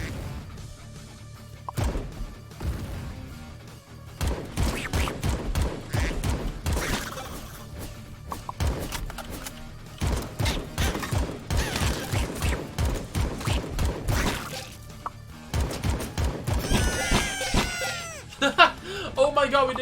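In the shooter game AK-xolotl, a rapid chain of bunny explosions and gunfire bursts in repeated clusters of sharp cracks and crashes, loud and dense, with a voice reacting over the noise.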